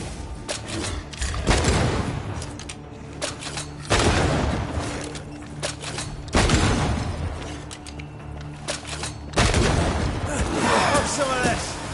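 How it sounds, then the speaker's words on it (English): Gunfire in the game Banishers: Ghosts of New Eden, heavy booming shots landing in four loud bursts roughly every two to three seconds, each with a long rumbling tail under a steady bed of game sound. "It's about to shoot."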